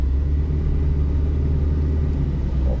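A 2014 Proton Saga 1.3 FLX automatic on a test drive hums with a low, steady engine and road rumble from inside the cabin, continuous and even throughout.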